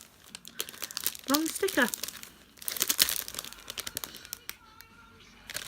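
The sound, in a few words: plastic packet of body scrub being opened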